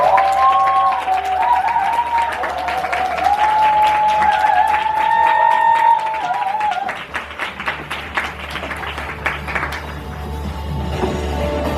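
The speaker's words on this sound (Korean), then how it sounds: "큰 박수로 모시겠습니다" Audience applause welcoming a woman director onto the stage at a Korean business presentation seminar, a dense sustained clapping crowd that thins and fades toward the end, with music tones running underneath.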